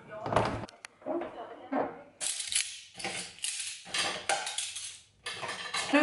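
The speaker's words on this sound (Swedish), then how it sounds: "jag håller på att ta ut diskmaskinen" Dishes and cutlery clatter and clink while a dishwasher is unloaded at home, in irregular close bursts of bright rattling and knocks, with a voice speaking through and between them.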